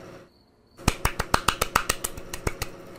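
A fast run of sharp clicks and pops made with the mouth, imitating applause, about a dozen in quick succession.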